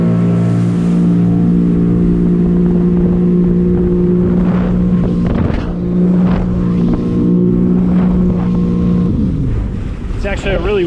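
Close, loud engine drone and wind rush from a Sea-Doo Spark Trixx personal watercraft in sport mode on open water, holding steady and then shifting in pitch near the end.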